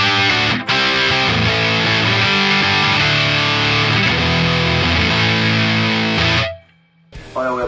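An electric guitar played through a Joyo Husky Drive overdrive pedal sounds loud and distorted with sustained chords, then cuts off abruptly and returns briefly at the end.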